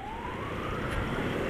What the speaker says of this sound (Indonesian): aduh ambulan